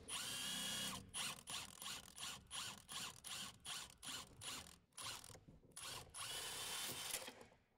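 Ratcheting tool clicks in repeated bursts loosening the upper shock absorber mount on a 2000s Renault Clio 3 1.6 16V during a rear shock swap, loud and close, with brief pauses between runs of rapid pawl clicks.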